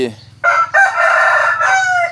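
A Thai fighting rooster crows loudly and close by, its strained, drawn-out calls broken into a few bursts over about two seconds.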